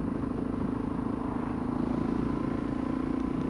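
A Suzuki DRZ dual-sport motorcycle engine hums steadily while riding along at about 35 mph, a close, continuous low drone with constant wind and road noise and no talking.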